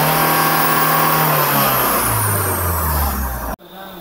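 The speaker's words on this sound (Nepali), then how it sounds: "स्टार्ट गरेपछि म फुल एक्सिलेटर दबाउँछु फुल दबायो" A Mahindra Scorpio with the mHawk engine, which has an RPM fluctuation and low pickup fault, revs loud and close at full throttle, its pitch shifting as it holds, until the roar drops off abruptly near the end.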